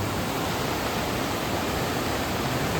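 Dangerous rushing rainwater torrent in Mangeli village in the Konkan during heavy rain, a dense, steady roar of fast-flowing water that stays loud and unbroken throughout, with no voices over it.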